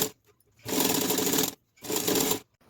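Sewing machine backstitching the lining into a crochet bag, two loud, close bursts of rapid whirring stitching separated by short pauses.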